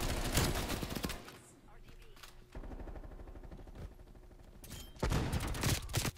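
An unsuppressed Bullfrog gun in Black Ops Cold War: sharp bursts of rapid automatic shots, loud and close, with gaps between the volleys and a few quieter pops.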